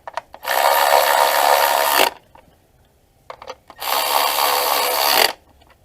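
A power tool tightens down an ignition coil on a 2016 Dodge Grand Caravan with a misfire, whirring in two loud, close bursts of about two seconds each, separated by a pause with faint clicks.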